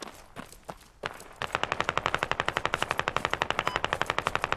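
Automatic gunfire in the military shooter Squad, a few scattered shots followed by a long, steady rapid burst of machine-gun fire, loud and close, with no talk over it.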